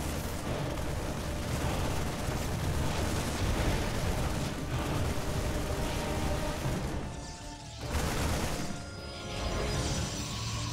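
Explosions in the StarCraft video game blast apart a cannon defense, forming a loud, continuous rumbling barrage of crashes that briefly drops off twice near the end before surging again.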